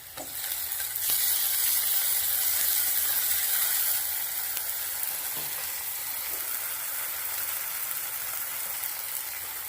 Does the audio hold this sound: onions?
yes